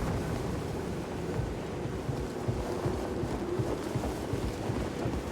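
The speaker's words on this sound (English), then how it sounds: "It's so windy." Steady roaring wind of a force vision in the video game Star Wars Jedi Fallen Order, a dense continuous rush with slight gusting swells, alone without talk.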